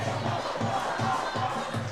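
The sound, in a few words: hometown football crowd cheering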